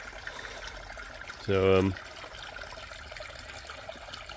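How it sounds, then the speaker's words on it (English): Aquarium skimmer churning water into bubbles, a steady close trickle and gurgle, broken by a short tonal hum partway through, with a voice speaking briefly. "that skimmer also does a good job of creating bubbles"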